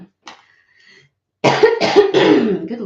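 A few harsh, raspy coughs in quick succession, close and loud, after a brief faint throat noise and a short quiet stretch.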